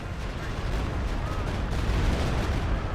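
Artillery barrage in the video game Company of Heroes 2: a dense, continuous wash of booming impacts and gunfire, loud and unbroken for the whole stretch, within a chaotic battle soundscape.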